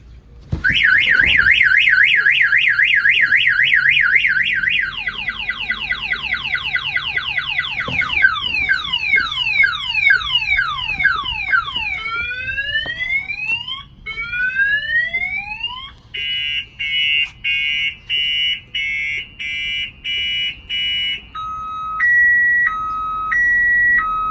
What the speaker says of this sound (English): if I get in here and I jump in, the alarm's going to set off